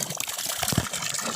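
Water runs steadily from a village water source in a remote Garhwal village, a close, continuous splashing gush with no voices.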